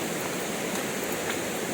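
Forest waterfall in the rainy season, its steady broadband rush of falling water filling the scene continuously and evenly, close and moderately loud with no voices.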